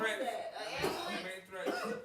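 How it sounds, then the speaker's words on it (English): Several people coughing and chuckling close together in a noisy room, with voices overlapping the coughs. "You hear everybody coughing."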